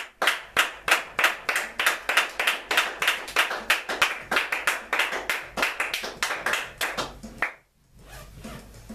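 A church congregation claps in praise during a service, a fast, steady run of sharp unison claps lasting several seconds before stopping abruptly, fairly close, followed by a low hum.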